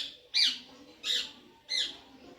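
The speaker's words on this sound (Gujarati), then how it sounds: "ઉપર કેટલા બધા પોપટ બોલા" Parrots give three loud, harsh squawks about half a second apart, each a short bright burst standing clear of quiet background noise.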